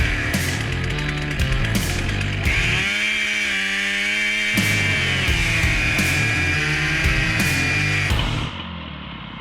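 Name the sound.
chainsaw cutting trees during field collection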